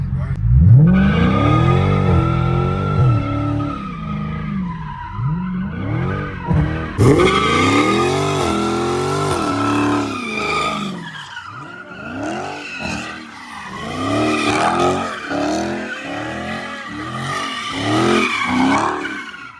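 A Dodge Scat Pack slides with its tires skidding. Loud, wavering tire squeals and engine revving rise and fall across the whole stretch, and voices are heard around the car.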